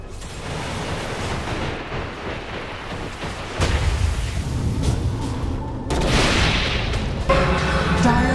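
Dota 2 battle in which the Dire's middle tower is attacked and destroyed: a dense, steady wash of game combat effects with heavy booming impacts, swelling louder in bursts as the fight goes on.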